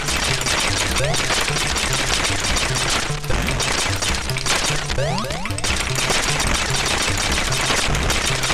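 Rapid, continuous shots from a player's ship in the Atari ST shooter Xenon make a dense, relentless stream of retro game gunfire layered over sweeping synthesized effects, loud and unbroken throughout.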